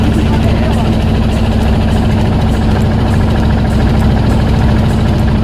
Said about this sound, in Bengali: যেহেতু ট্রলারে খুব শব্দ হচ্ছিল